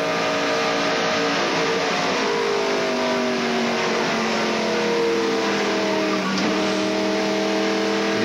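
Onboard NASCAR stock car at the 1993 Winston 500 at full speed, loud sustained engine wail shifting pitch as it follows another car, with a steady roar of wind and track noise.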